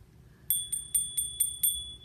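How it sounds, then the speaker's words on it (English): A small bell rings six times in a quick, even sequence, each strike a bright, clear ping that rings out close in an otherwise quiet room. "the little bell he hears."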